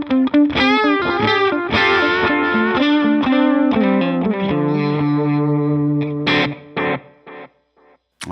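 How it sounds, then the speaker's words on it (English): An electric guitar runs through a Helix Native preset with a Matchstick amp, its loud tempo-synced delay repeating each phrase with distorted, chorused tone and reverb tails, ending in staccato echoed stabs. "All right, so very loud delay."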